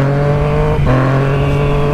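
A Yamaha MT-09 motorcycle engine holds a loud, close, steady harmonic rev, broken by a brief dip in the middle before it resumes.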